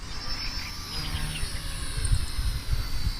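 A K110S radio-controlled helicopter flies overhead with a continuous high, thin whine and a faint buzzing rotor throb, steady and moderately distant, outdoors.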